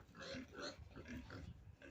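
Pigs grunt and snort in quick, rhythmic bursts, close and fairly quiet, several animals overlapping.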